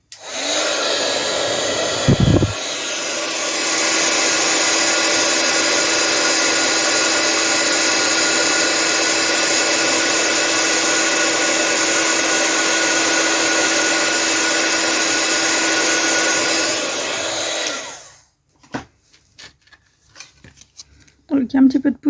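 A heat gun blows a loud, steady whooshing whine for about fifteen seconds while melting embossing powder on a craft card, then cuts out, leaving handling clatter and a French voice talking.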